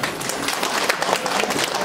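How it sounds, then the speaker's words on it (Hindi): Loud, dense clapping from an audience standing at a DXN company event in Khandbari, many hands blending into a steady wash throughout. "अपने स्थान पे खड़े होके अपने लिए जोरदार ताली बजाइए,"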